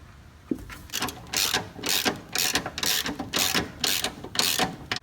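Hand ratchet cranking bolts tight while mounting a trailer hitch hanger on a 2016 Mustang GT, a fast steady series of close, loud clicking strokes with no voices.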